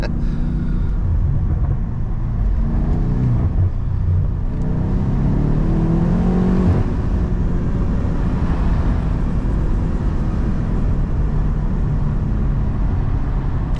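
A BMW M8 Competition engine revs hard and continuously while the car drifts, a loud, sustained roar with rising and falling pitch as the throttle is held on through the turns.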